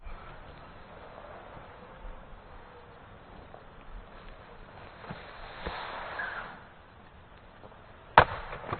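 An axe splits a knotty log: one sharp, loud chop lands near the end after several seconds of quiet outdoor background.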